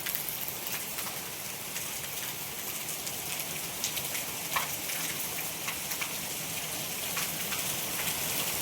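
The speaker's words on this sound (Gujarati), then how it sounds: "આ વરસાદ કદાચ અડધી કલાક પડે તો 1-2 ઇંચ વરસાદ થઈ જાય એવો વરસાદ ચાલુ છે" Heavy rain pours steadily in Porbandar as a deep depression passes, a dense, even hiss of drops hitting surfaces with scattered sharper patters, constant throughout and free of speech.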